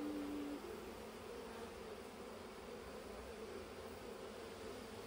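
Honey bees flying around an open hive during a beekeeping inspection make a continuous, even buzz at close range, one briefly louder tone at the start, no talking.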